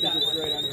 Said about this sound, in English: he accidentally set the alarm off.